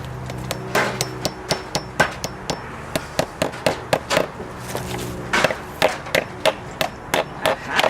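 Steady hammer blows on wood, sharp knocks landing in a quick, uneven rhythm, fairly close and loud, with no talking.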